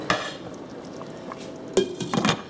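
A metal lid is set onto a pot of Portuguese peas and chourico cooking on the stove, with two clanking contacts, one early and a louder rattling clatter later, over quiet background.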